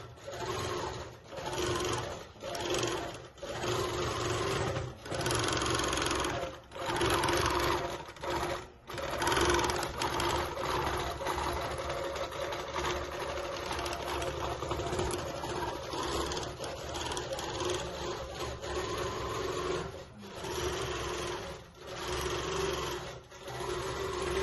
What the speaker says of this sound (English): here we can see a little bit of the work of the long arm